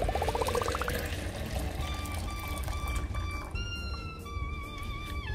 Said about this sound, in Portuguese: Agora eu vou adicionar a mistura aí 1 litro de água.